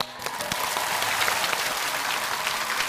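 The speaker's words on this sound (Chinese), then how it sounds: "我可以带头鼓掌" A studio audience at a Chinese televised lecture show bursts into sustained, dense applause that fills the whole stretch at a steady, loud level, with no voice over it.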